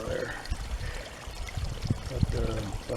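Muddy water gushes and trickles out of a 1999 Buick Park Avenue radiator during a flush, a steady close pouring with faint voice murmurs in between.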